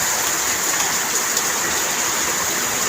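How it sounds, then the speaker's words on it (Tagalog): Heavy, steady rain pours down during Typhoon Carina flooding, a dense, continuous roar of water drumming on surfaces at close range, unbroken throughout with no voices. "Naway tumila na yung ulan."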